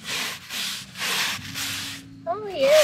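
Rhythmic scratchy strokes of a stiff broom brushing mortar off concrete blocks, repeated several times, followed by a brief voice.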